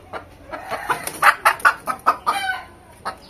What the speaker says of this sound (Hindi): हम लोग का यहाँ का लोकल मुर्गी है, एक मुर्गा और एक मुर्गी और यहाँ उसका बच्चा लोग है